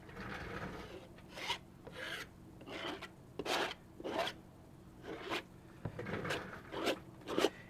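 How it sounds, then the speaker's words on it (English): Soft textured medium, lighter than pudding, is scraped across a collage canvas in a series of close, rasping strokes, roughly one every half second with short pauses between. "So I'm going to scrape."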